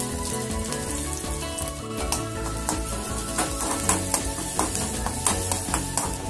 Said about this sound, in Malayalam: ആദ്യം എണ്ണ ഒഴിച്ച് ഉള്ളി ചേർക്കണം.